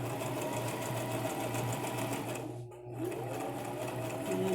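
Sewing machine stitching fabric close to the edge of a small heart shape for a miniature pillow, a steady quiet mechanical whir running continuously with one brief dip as the fabric is turned.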